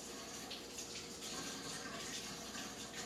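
Water from a tap runs continuously in a steady, hissing stream, close by and moderately quiet.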